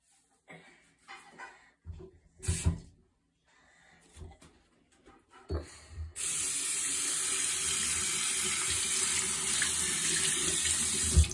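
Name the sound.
water pouring into a sink while cleaning it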